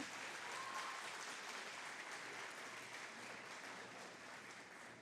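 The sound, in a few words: audience applauding children entering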